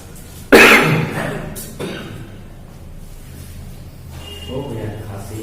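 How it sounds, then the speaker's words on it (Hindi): A single loud, harsh cough bursts out close by, followed by a smaller throat-clearing sound and some faint low background noise. "हो गया खांसी"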